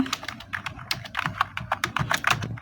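Quick, steady typing on a computer keyboard while working in Adobe Illustrator, dense close clatter of keystrokes with no break and no talking.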